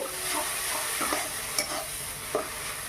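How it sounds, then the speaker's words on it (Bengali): Spice paste for a potato curry is stir-fried in a pan, giving a close, continuous sizzle with repeated scraping strokes of a spoon and a couple of sharper knocks, without any voices. "এবারে নেড়ে চেড়ে মশলাটা কষিয়ে মশলাটা কষানো হয়ে গেছে"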